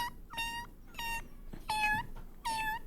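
A person imitates a kitten, making several high, thin meows in a row, the later ones louder and more drawn out, against a faint background hiss.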